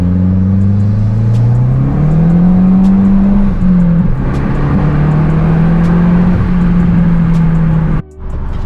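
A deep, steady exhaust rumble from a 2018 Subaru WRX with a catless J-pipe, idling and revving slightly, loud and close, cutting out abruptly near the end.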